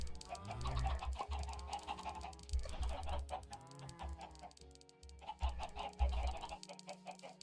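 Minecraft chickens clucking in a dense, overlapping chorus, a flock of game fowl calling continuously near and loud with no talk.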